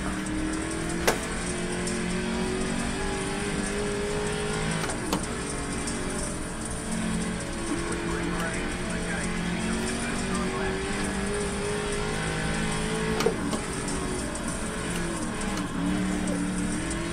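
Late model race car engine in iRacing drones steadily at high revs throughout, with pitch dips and rises through corners and a few sharp clicks, constant and close.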